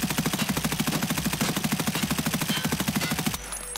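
Automatic gunfire in the video game Escape From Tarkov: a long rapid burst of evenly spaced, loud, close shots lasting over three seconds, then cutting off abruptly.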